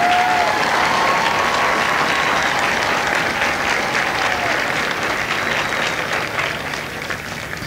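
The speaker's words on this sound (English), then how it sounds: "please join me in a round of applause for the company staff of Company B" A crowd at a Marine Corps Recruit Depot San Diego graduation ceremony applauds the company staff of Bravo Company in a dense, steady wash of clapping that holds throughout and eases slightly at the close.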